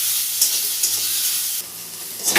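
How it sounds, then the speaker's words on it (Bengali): Shrimp seasoned with salt and turmeric fry in hot oil in a kadai, giving a loud, steady close-up sizzle with occasional stirring scrapes and a brief surge near the end. "এবার চিংড়ি মাছটা ভেজে নেব"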